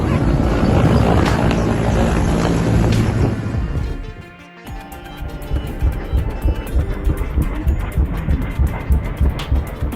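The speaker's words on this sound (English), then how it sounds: "that surprise helicopter sneaking into the background" A helicopter flies in the background of a group photo at an aviation scene, its rotor and engine a steady, loud rumbling roar that dips briefly and then returns with a throbbing beat.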